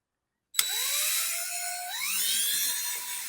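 A power drill bores holes in a 1971 VW Beetle for underglow mounting, whining steadily from a sudden start, its pitch climbing partway through as it bites in, close by with no voices.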